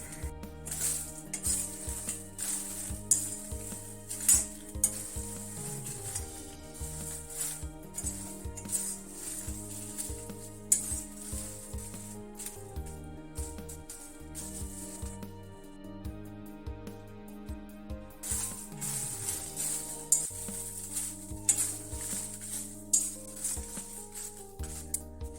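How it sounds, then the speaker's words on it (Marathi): Red chillies being dry roasted in a pan for Malvani masala, with a steady faint crackle and rustle as the chillies are moved and tossed, continuous and without talk. "अशी मिरची आपण भाजून घ्यायची आहे."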